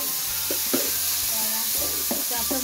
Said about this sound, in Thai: ใส่ดอกชมจันทร์ค่ะที่เราเตรียมกับเครื่องปรุงไว้นะคะลงไปในกระทะเลยค่ะ